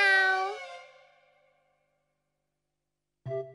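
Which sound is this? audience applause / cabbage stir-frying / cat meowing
cat meowing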